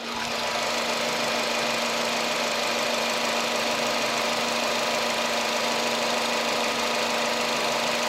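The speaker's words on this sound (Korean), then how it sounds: "엔진 소리 한번 들어보도록 하겠습니다" A Renault Samsung SM6 sedan engine idles steadily with a constant low hum and a faint mechanical knock, close by and unchanging throughout.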